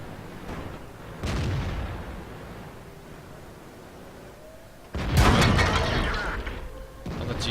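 World of Tanks cannon fire from T32 tanks booms in two heavy blasts, one near the start and a louder one past the midpoint, each followed by a lingering rumble.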